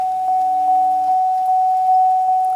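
A 2005 Pontiac Aztek Rally Edition crossover sounds its warning chime, a steady electronic tone with soft, evenly spaced dings about every 0.4 seconds, close and alone.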